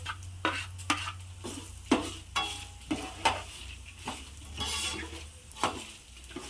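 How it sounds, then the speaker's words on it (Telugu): Fenugreek seeds dry-roast in a pan beside coriander seeds, stirred in a regular rhythm of scraping strokes and light clinks over a faint low hum, close up with no talking. "ఇవి మాడిపోకుండా బాగా వేయించుకోవాలి ఫ్రెండ్స్"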